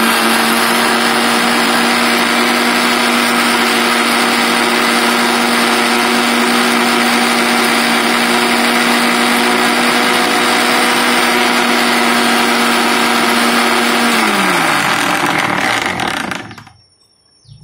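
A blender grinds egg and coconut oil into homemade mayonnaise, a loud, steady high motor whine that holds for most of the time, then winds down and stops near the end.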